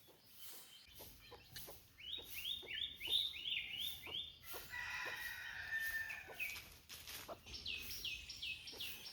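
A squirrel calls from trees in a village with rapid, repeated high chirps in quick bursts. The calls are faint and distant, with scattered bird calls and soft clicks around them.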